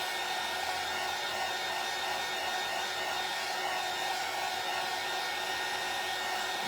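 A hair dryer blows steadily and close throughout while drying a beach-themed door hanger craft, a constant loud airy whoosh with no talking.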